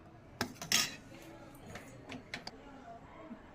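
A few quiet clinks and scrapes of a spoon mixing sambar powder into tamarind juice in a bowl, brief and intermittent, fairly soft.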